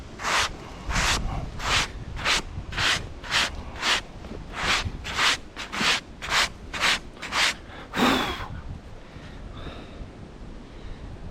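A hand saw cuts through timber with about a dozen rhythmic rasping strokes, close and even, before the final stroke and quieter handling at the end.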